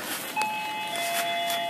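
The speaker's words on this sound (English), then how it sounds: "That's the doorbell that's ringing." A soft electronic doorbell chime rings with sustained pure tones, faintly heard over steady background hiss and rumble.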